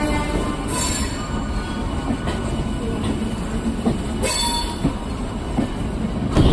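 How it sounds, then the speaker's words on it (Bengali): A Bardhaman–Howrah chord line local train rumbles past nearby, a continuous loud roar of wheels and carriages with bursts of high metallic squealing. "যে লোকাল ট্রেনটা আসছে এটা হচ্ছে বর্ধমান হাওড়া কডলাইন লোকাল"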